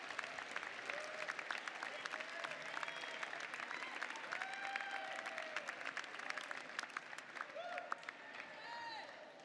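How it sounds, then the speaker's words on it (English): Large crowd at the College of Charleston winter commencement applauds with sustained clapping and scattered cheers and whoops, heard faintly from a distance and rising and falling in waves throughout. "Give them a big round of applause."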